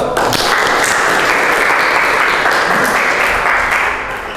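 A classroom group claps together in sustained, dense applause after a Quran recitation and tajwid lesson, the clapping loud and steady throughout before easing slightly at the end.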